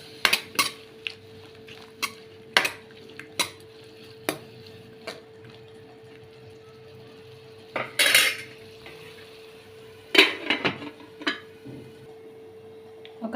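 A spoon scrapes and knocks against a pan while mushrooms are stirred with chili and coriander powder, giving sharp, irregular clinks spaced a second or two apart over a quiet background hum.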